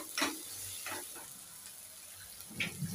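Onion-tomato masala fries in oil in a pan, giving a quiet, steady sizzle with a few soft stirring scrapes and clinks.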